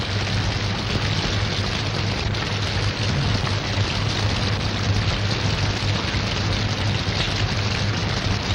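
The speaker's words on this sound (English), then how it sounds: "On top of heat, the drenching tropical rain." Heavy, steady tropical rain pours down continuously with a dense hiss and a low rumble underneath, loud and unbroken throughout, in the Pacific during World War II.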